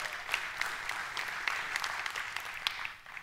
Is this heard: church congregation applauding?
yes